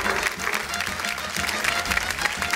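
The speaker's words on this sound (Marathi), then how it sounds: "एक जोरदार टाळ्या होऊन जाऊ दे." A studio audience at a Marathi television game show claps enthusiastically, a dense, steady burst of applause from a crowd close by.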